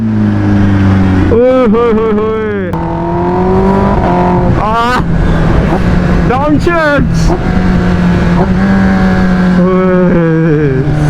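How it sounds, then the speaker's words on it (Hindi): A Kawasaki ZX10R motorcycle engine roars loudly and revs up and down steadily while riding, with someone talking over it throughout. "अभी जब बाइक चला रहा हूँ ना, मुझे पता है क्या फील है यार"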